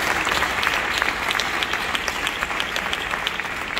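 An audience applauds a gymnastics team at a cooking event, with dense, steady clapping from a sizable crowd that holds its level throughout.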